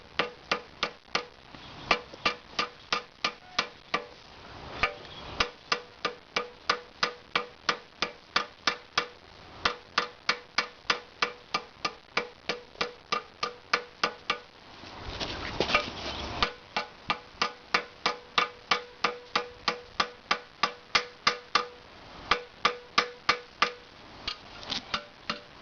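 Steady, regular hammer strikes ring out on the horn of a homemade DIY anvil, dozens of sharp metallic blows in an even rhythm with a brief pause midway, close and clear with no talking.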